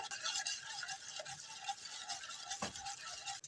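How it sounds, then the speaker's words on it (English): A spoon stirs powdered skim milk in a cup or bowl, giving faint repeated scraping and swishing strokes in a quiet kitchen, with one small clink near the end and no talk. "And I'll just stir it."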